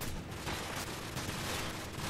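Sustained rapid automatic fire from an AK rifle in Call of Duty Modern Warfare Remastered, a dense continuous burst of loud gunshots filling the whole moment with no pauses.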